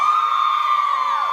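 A concert crowd screams as the manager walks on stage at a show, a loud, high, sustained shriek of many voices with little change in level.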